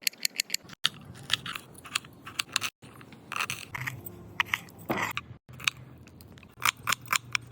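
Vegetables for a mixed veg bhaji, including coriander, onion, peas and green beans, being cut in a home kitchen: a run of sharp, crisp chopping clicks with brief pauses, close and fairly quiet, with no talking.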